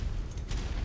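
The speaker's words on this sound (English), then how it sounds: "So many explosions. So many grenades." Grenade explosions in an Ark Survival Evolved PvP raid, a dense rumbling burst of booms packed into under a second, loud and continuous.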